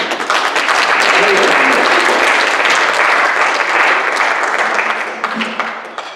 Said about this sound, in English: judging by their applause for you